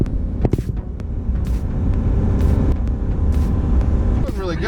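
A Ram 2500 pickup with a 6.4L Hemi engine tows a 7,500 lb travel trailer uphill on US Highway 2, giving a steady, loud in-cab rumble and road drone with low speech over it.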